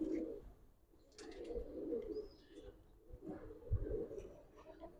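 Giribaz pigeons cooing up close in a low, throaty rhythm, in several phrases over a few seconds, with faint chirps and background noise.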